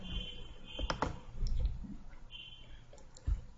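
A short Linux command is typed on a computer keyboard, with a few faint, sparse key clicks and a soft tap against a quiet background hum, no voices.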